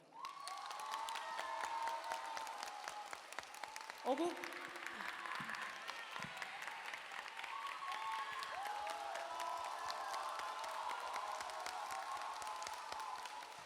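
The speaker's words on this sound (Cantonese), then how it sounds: "不如我哋俾啲掌聲佢好嘛？" Audience applause and cheering at a Hong Kong university concert, a steady broad wash of clapping that carries through the whole stretch with scattered shouts and voices over it.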